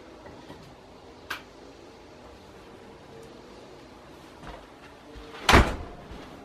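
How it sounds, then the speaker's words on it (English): A door is pulled shut with a single loud, sharp slam near the end, after a few faint knocks and small clicks in an otherwise quiet indoor room. "Let me go grab and close the door."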